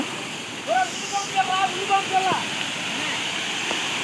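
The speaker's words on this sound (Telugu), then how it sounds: "చూసారా వాటర్ ఫ్లో అవుతుంది అనమాట" Water spills out of a brimming small village pond in a steady, close rushing wash, with a voice talking over it.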